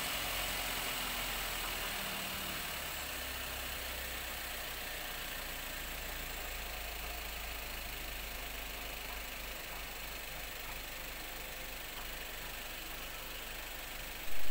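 A Daihatsu Gran Max engine idles steadily during a home service job, a low continuous rumble with a faint knocking texture, alone and unchanging throughout.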